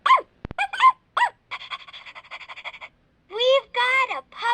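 A Wonder Pets toy playset plays a recorded puppy sound effect with electronic chirpy barks and yips, a rapid string of short tones, then more whimpering barks, loud and close with a sharp click near the start.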